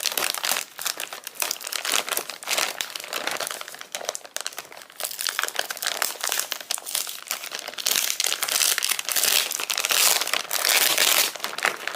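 Plastic parts-kit bags for a Romanian AIMS-65 rifle crinkle and crackle loudly up close as they are cut open and handled, a continuous dense rustling that runs throughout.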